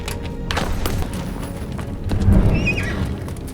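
Several horses gallop with heavy clip-clop hoofbeats, and one neighs sharply midway, loud and close in a busy scene as Qing soldiers abandon their mounts and flee into a forest.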